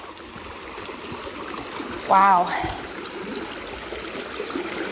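Stream water still running hard after storm damage on a trail, a steady broadband rush throughout, with a brief exclamation from a voice near the middle.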